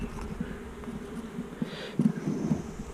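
Honey bees buzz inside an open hive during an inspection with no queen present, a steady close drone that swells briefly toward the end.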